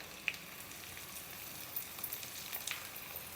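Garlic and two dried red chillies sizzle in hot tempering oil, giving a faint, steady crackle with a few small pops.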